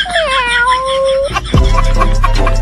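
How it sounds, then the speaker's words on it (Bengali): A cat gives a drawn-out, wavering meow, then a lower, rougher yowl follows abruptly, both close and loud. "এই বিলাই, এই বিলাই"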